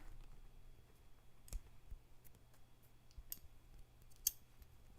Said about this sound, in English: I know the sound of these scissors